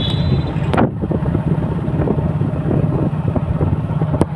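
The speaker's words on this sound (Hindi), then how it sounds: "अच्छा, हम लोग बाइक पर सवार करते हैं, देख पा रहे हैं बाइक है" A superbike ridden along a town road, heard as a continuous low engine rumble buried under heavy wind buffeting on the microphone, with a few sharp knocks.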